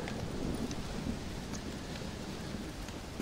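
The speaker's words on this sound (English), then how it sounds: "Well, it's just the storm, John." Rain pours steadily during a thunderstorm in Red Dead Redemption: Undead Nightmare, a soft, even hiss with faint low rumbling throughout and no voices.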